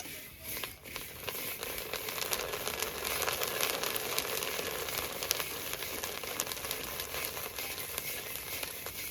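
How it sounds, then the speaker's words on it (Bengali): Puffed rice frying in hot sand gives a steady, soft crackling and pattering hiss that stays even and continuous from start to finish, with no talking. "বালিটা গরম হয়ে গেছে এখন আমি মুড়ি ভাজবো দেখুন এইভাবে ভাজতে হয়"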